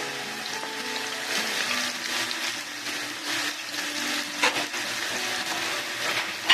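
Beef steak sizzling in a pan, a close, continuous crackling hiss with small pops and a faint clatter of utensils, no voices.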